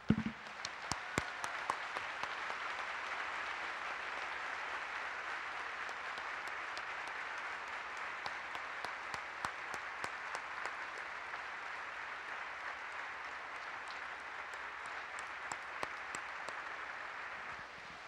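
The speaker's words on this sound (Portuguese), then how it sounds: "Vamos aplaudir o nosso Pai." Church congregation applauding together during an Easter service, a steady sustained wash of many hands clapping with a few sharper individual claps standing out, fairly distant and even throughout.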